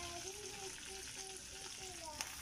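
Kasintha leafy greens fry in a pan with a faint, steady sizzling hiss, while a voice talks quietly over it.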